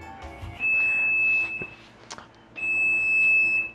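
A high electronic beep, like a smoke alarm, sounds in two long steady tones in a kitchen during burger making, with low background noise between them.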